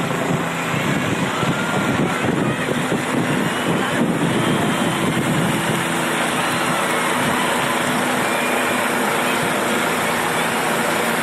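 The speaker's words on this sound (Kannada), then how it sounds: "ಶಿವನ ಮೂರ್ತಿಗೆ ಹೆಲಿಕಾಪ್ಟರ್ ಮೂಲಕ ಪುಷ್ಪಮಳೆ ಗೈಯ್ಯಲಾಯಿತು." A helicopter flies over a large Shiva statue during a flower-showering ritual, its loud, steady engine and rotor roar filling the whole span alongside wind buffeting.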